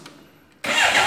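A Suzuki GSXR750 SRAD sport motorcycle engine has a brief quiet starter moment, then catches and bursts into a loud, steady, close-up running roar.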